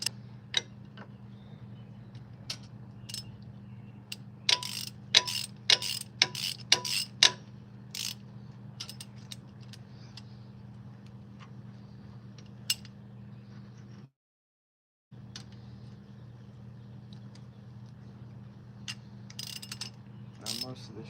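A hand ratchet clicks in scattered bursts of sharp, close ticks while working on head bolts of a worn Chevy 305 engine from an El Camino, over a low steady hum, with a brief silent gap.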